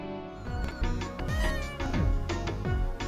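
Cartoonish cat meows from a Roblox video game, several short mews repeating over a steady bed of game music, fairly close and clear with no talking.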